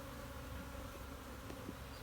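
Honey bees buzz steadily around a hive frame during a spring hive split, a dense, continuous insect drone with no voices.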